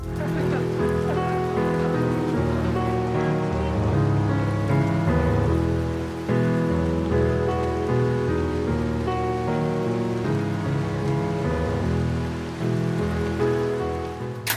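Steady rain falls in a Jim Carrey film scene, a continuous loud patter heard beneath a swelling music score.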